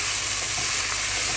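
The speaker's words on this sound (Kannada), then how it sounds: "ಎಣ್ಣೆಯಲ್ಲಿ ಪಾಲಕ್ ಸೊಪ್ಪು ಚೆನ್ನಾಗಿ ಫ್ರೈ ಮಾಡ್ಕೋಬೇಕು." Chopped spinach with turmeric frying in oil in a pan: a loud, steady, close hiss and sizzle, unbroken throughout with no talk.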